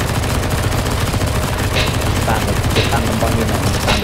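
Gunfire in a CSGO zombie escape game round, a dense, continuous rattle of automatic weapons with scattered sharper shots over a busy background, with a player talking at times.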